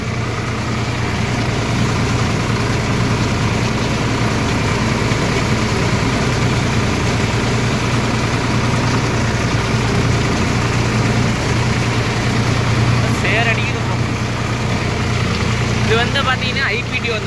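A Swaraj 744 XT tractor idles steadily with its 540 PTO driving a rotavator in a rice field, a constant low engine drone running unbroken throughout with brief faint clatter near the end.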